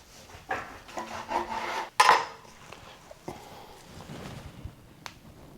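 A knife cuts into a smoked brisket with a foil-wrapped, rendered fat cap, making close scraping and rasping slices, a sharp crackly crunch near the middle, and softer rubbing strokes after it, with no talking.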